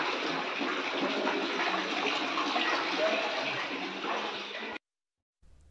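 Heavy floodwater surges into the Taliperu project after days of heavy rain, a loud, steady rushing roar that continues unbroken and then cuts off abruptly near the end.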